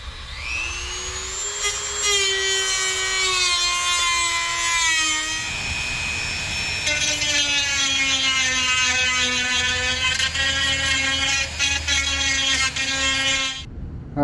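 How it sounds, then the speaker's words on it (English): A Dremel rotary tool cuts through a plastic panel on a Can-Am X3, a loud, steady high-pitched whine close by that dips in pitch as it bites, then climbs again for a second long cut. "Just take a Dremel tool and cut this whole section out on the side here."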